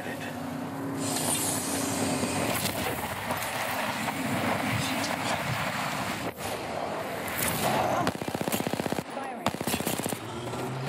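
Rapid automatic weapon fire in the shooter game Apex Legends, sustained bursts of gunshots with sharp individual cracks toward the end, under players talking.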